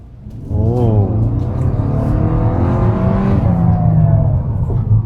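A Kia Carens in sport power mode accelerates hard from inside the cabin, the engine note climbing steadily and loudly through one long pull after a brief rise, with a slight dip near the start.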